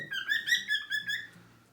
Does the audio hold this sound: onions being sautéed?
no